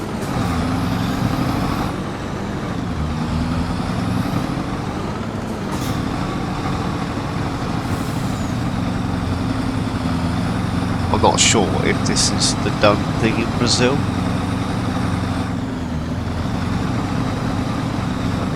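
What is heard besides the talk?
truck driving into a field in Farming Simulator video game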